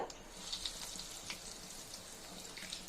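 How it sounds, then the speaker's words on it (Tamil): Potato cheese balls deep-fry in moderately hot oil, giving a soft, steady bubbling sizzle with scattered small pops, fairly quiet and close. "இப்போ பால் ஒன்றா நம்ம பொரிச்சு எடுத்துடலாம்"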